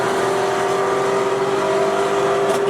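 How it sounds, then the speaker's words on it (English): Loud, raspy V8 cars idling and revving close by at a car meet, a continuous rough engine drone with a steady tone throughout. "These V8s are so loud and raspy."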